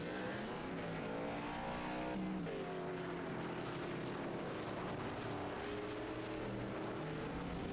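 Late model race cars roar around the South Boston track in a racing sim league event, engines droning loudly and continuously with shifting pitch as the pack runs together, no talk.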